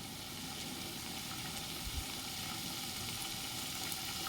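Cauliflower sautéing in oil over a high flame, a steady, soft, hissing sizzle that stays even throughout with no voices.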